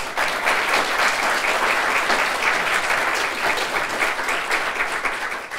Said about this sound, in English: I'd like you to give a round of applause to Paul, if you don't mind.